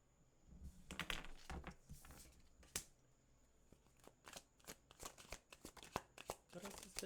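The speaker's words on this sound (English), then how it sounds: "As I'm shuffling these cards, I am using Cirque du Tarot." Cirque du Tarot cards being shuffled on a desk, a run of crisp flicking riffles and papery snaps in uneven bursts, close and fairly quiet, with no voice over it.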